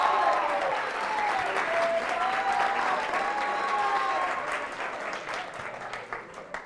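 A studio audience applauds steadily for several seconds during a TV quiz show, dense clapping that tapers off slightly toward the end.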